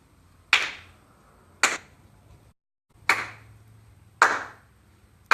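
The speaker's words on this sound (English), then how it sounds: "You want me to give you a little clap?" Four sharp hand claps spaced about a second apart, then a fifth at the end, loud and close in a quiet room with a faint hum behind them and no talking.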